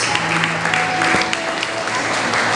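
An audience claps steadily for newcomers standing up at a gathering, a sustained wash of applause at even volume with faint voices underneath.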